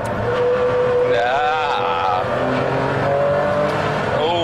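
A Ferrari Enzo's engine roars loudly and close, climbing in pitch as it accelerates, with sudden drops at each gear change before revving up again, steady and dominant throughout.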